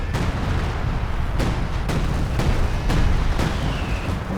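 Assault artillery shells pounding away in a Company of Heroes 2 battle: a steady run of heavy booms, roughly every half second, over a dense low rumble of gunfire.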